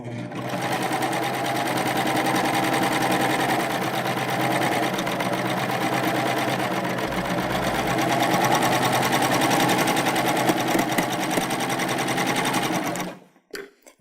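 A Baby Lock Euphoria cover stitch machine runs with a cover and chain stitch foot, using differential feed and a longer stitch to gather ruffles, a loud, steady, rapid mechanical chatter lasting about thirteen seconds before stopping.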